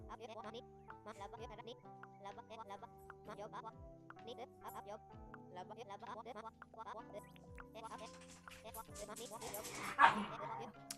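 Dogs in the farming video game Dinkum bark and yip in a quick repeated pattern with game music and chatter around them. Someone talks over much of it, and a brighter, louder burst comes near the end.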